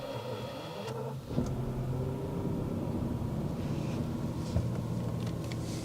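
A 6-litre V12 car engine starts with a short crank and catches, then settles into a low, quiet, steady idle rumble with no voices.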